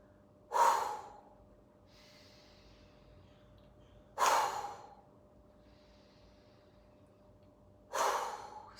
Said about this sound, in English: inhale, exhale out through the mouth